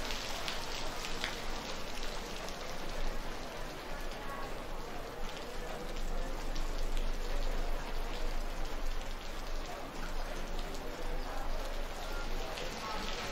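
Steady rain from a sudden thunderstorm, a dense continuous hiss of drops on surfaces throughout, moderately loud and unbroken with no pauses.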